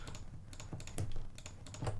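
Rapid computer keyboard keystrokes and mouse clicks during game modeling work, a dense irregular clatter of close, crisp taps with no voices.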